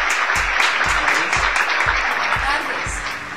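Audience applause at a university management show, a room full of people clapping steadily and fairly close for several seconds, with some faint voices mixed in.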